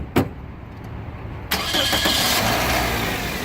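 A car engine cranks and catches, preceded by a brief click, then settles into a steady mid-pitched idle that runs on alone.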